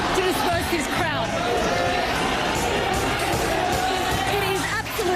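A dense, chaotic crowd of protesters at a 2019 Hong Kong riot, a loud continuous roar of shouting and yelling voices close around, with a reporter speaking over it.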